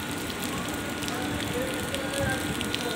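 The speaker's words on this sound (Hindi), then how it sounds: "झरमर झरमर बारिश हो रही है" Dense, steady patter of light drizzle falls on surfaces in Indore, an even wash of soft hiss and tiny drops with no clear pauses.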